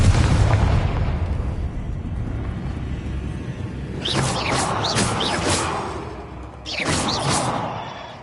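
A Confringo spell explodes in the video game Hogwarts Legacy: a deep rumbling boom fades out, then two bursts of whooshing, crackling blasts follow.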